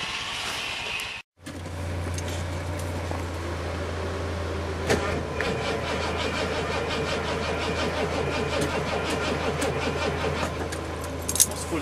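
A 1970 Ford Galaxie with a 460 V8 cold starts at about -27.5 C: keys jangle, a brief silence, then the engine catches and settles into a steady, loud idle running alone.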